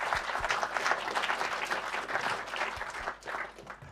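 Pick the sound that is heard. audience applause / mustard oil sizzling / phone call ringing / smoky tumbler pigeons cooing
audience applause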